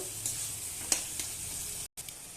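Food fries and gets stirred in an uncovered pan, giving a steady close sizzle broken by a few scraping strokes and one brief dropout.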